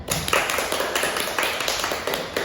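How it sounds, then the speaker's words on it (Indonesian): A classroom audience claps hands together in steady, dense applause that runs the whole time, fairly loud and close, with no talk over it. "Beri aplaus tangannya"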